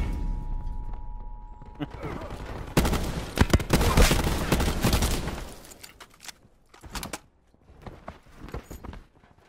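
Gunfire in Call of Duty Black Ops 4 Blackout: a dense burst of rapid shots for a couple of seconds, then scattered single cracks and thuds, with a voice talking intermittently.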